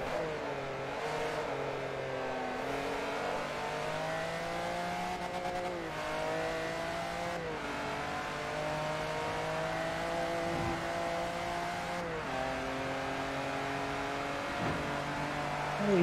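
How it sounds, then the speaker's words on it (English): Race car engine in Forza Motorsport 3, a steady high-pitched whine that revs up and drops with each gear shift, loud and continuous with no talking. "Such a good engine noise."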